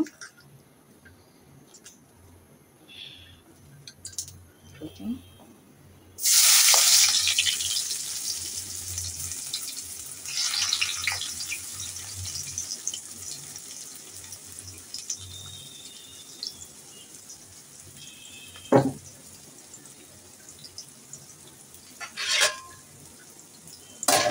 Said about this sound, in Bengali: আমি এখন পেঁয়াজ দিচ্ছি হালিমের জন্য।